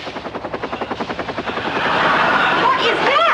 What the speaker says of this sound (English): Daddy's chopper, he's here.